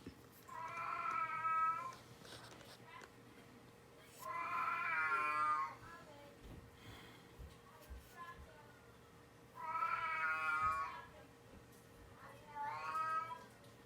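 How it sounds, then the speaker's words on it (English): A senile old cat meows repeatedly in drawn-out, wavering cries, spaced a few seconds apart, with faint background noise between them. "you guys can hear that senile old cat"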